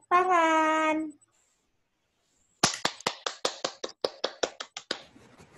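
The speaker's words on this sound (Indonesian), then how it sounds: "Tepuk tangan." A few people in a classroom clap in a short, distinct series of about fifteen sharp, close hand claps after a brief voice and a pause, with the sound fading to a quiet tail.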